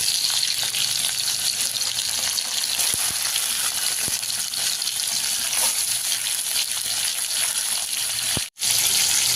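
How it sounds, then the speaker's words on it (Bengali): Hilsa fish sizzling loudly in hot oil seasoned with kalo jeere, panch phoron and slit green chillies, a dense continuous close frying hiss with a few faint clinks and one brief dropout near the end. "ইলিশ মাছগুলো দিয়ে দিব ওতে।"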